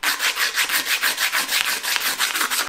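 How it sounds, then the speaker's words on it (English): Steady rhythmic scraping at a logo on the plastic bodywork of a Yamaha YZ125 dirt bike, a close, harsh rasping stroke repeated quickly back and forth without pause. "So I'm just gonna try to scrape it all off."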